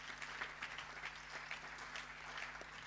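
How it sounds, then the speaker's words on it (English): An audience at a choral oratorio gathering in Lagos applauds the guest of honour with a soft, distant, continuous patter of many hands, quiet throughout. "Please join me in giving a round of applause to Mr."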